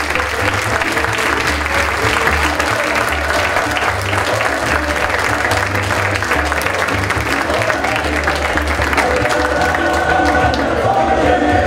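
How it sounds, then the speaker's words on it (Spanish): A crowd at a senior citizens' romera presentation in Tegueste gives sustained, loud applause with some cheering, while a low background hum continues underneath. "un fuerte aplauso de todos ustedes"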